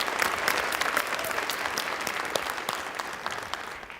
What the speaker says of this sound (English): give a quick round of applause for Charla for putting on this incredible event